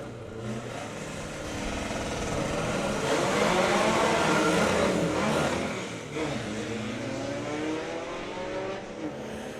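VW Beetle drag car launching down the strip in a side-by-side drag race, engine revving hard and loud throughout with a rough stumble midway as a gear is badly missed, crowd and track ambience behind.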